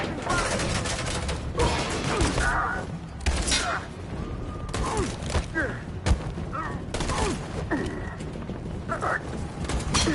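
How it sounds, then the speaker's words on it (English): Suppressing gunfire in Detroit: Become Human: dense, continuous bursts of shots and impacts crackling loudly over ten seconds, with shouted voices mixed in under the fire. "Go, suppressing fire!"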